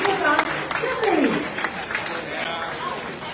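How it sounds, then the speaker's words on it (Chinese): Applause rises from a banquet audience at a welcome dinner, a diffuse clapping crowd that runs beneath a speaker's voice throughout. "最大的掌声来，谢谢江总会长还有他的团队"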